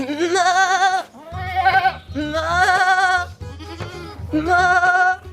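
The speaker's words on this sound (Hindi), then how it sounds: "उस बकरे से बड़ी स्मेल आ रही है और इस तरह की आवाजें आ रही हैं।" A billy goat bleats loudly and close by in three long, wavering cries separated by short pauses, over a low, rhythmic background beat.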